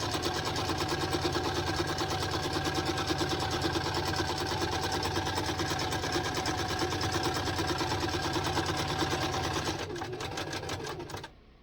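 A home sewing machine stitches around the edge of a cloth menstrual pad in a fast, even, continuous whir that runs close and steady, then slows and stops near the end.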